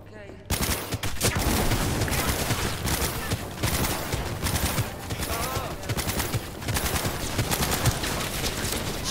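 Gunfire in Cyberpunk 2077 sounds as sustained rapid fire, dense repeated shots hammering almost nonstop, loud and close, with voices now and then under the shooting.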